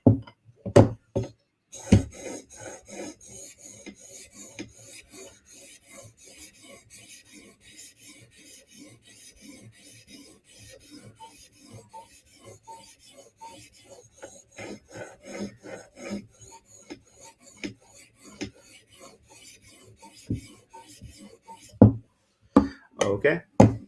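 Blade sharpened on sharpening stones, a series of soft rhythmic scraping strokes framed by louder knocks at the start and end, close and fairly quiet.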